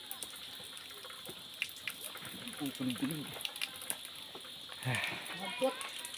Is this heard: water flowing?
yes